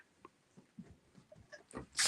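A single sharp sneeze bursts out at the end of a quiet stretch, loud and close, after faint scattered knocks and shuffles in a room full of antique dolls during a paranormal investigation.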